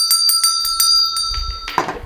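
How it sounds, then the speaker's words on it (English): A small bell is rung during a tarot reading, giving a quick run of about six bright, clear strikes with ringing overtones, close and loud, followed by a muffled thump and rustle. "We're going to ring the bell."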